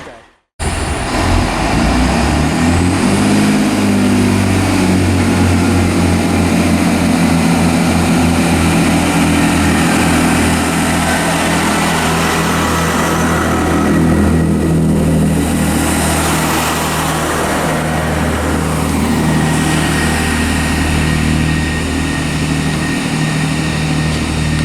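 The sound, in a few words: Class 165 diesel train 165 130 departing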